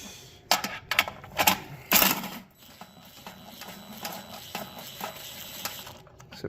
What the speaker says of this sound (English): These I can impact off, they're on a stud, so they should be just fine.